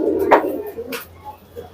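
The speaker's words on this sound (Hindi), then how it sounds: "ये सब बड़े साइज की कबूतर है।" Large Kalsare pigeons cooing nearby, a short low throaty coo followed by softer murmurs over a quiet background.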